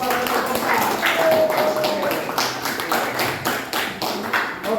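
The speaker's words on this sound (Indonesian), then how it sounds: "kasih tepuk tangan kepada kelompok 4" Classroom applause for a student group: a few people clapping irregularly and somewhat sparsely, with background chatter and a brief voice underneath.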